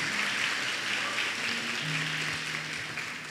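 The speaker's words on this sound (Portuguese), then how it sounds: "Você pode aplaudir o Senhor, por favor?" A church congregation applauds steadily throughout, with dense, continuous clapping at moderate level and faint voices underneath.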